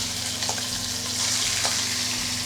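Trout fillets sizzle and fry steadily in olive oil in a pan, a continuous close hiss with a low steady hum underneath and no talking.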